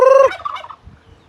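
A turkey gives one loud, close gobble, a quick warbling burst, followed by faint rustling and no talk.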